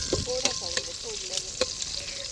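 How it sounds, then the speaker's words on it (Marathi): Cumin, mustard seeds, curry leaves and onion fry in hot oil over a wood-fired village stove, giving a steady close sizzle broken by sharp pops and spoon clicks, without speech. "तेल गरम करून त्याच्यामध्ये जिरे, मोहरी, कढीपत्ता आणि कांदा मस्त भाजून घेतला"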